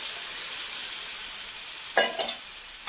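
Fried spice paste sizzles quietly and steadily in a pan, then hot water is poured in, setting off a sudden loud burst of hissing and spattering that settles into a few bubbling pops. No talking.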